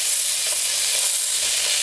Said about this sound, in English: You can really hear them sizzle.